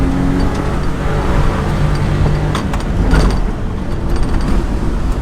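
A Kei truck with a welded differential drives along, its small engine and road noise forming a loud, steady drone throughout with slight surges.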